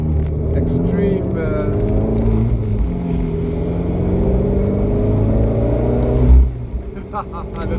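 An Abarth 595 convertible with a Record Monza exhaust drones steadily under revving, a deep engine rumble with a brief sharp pop near the end, while a person talks over it.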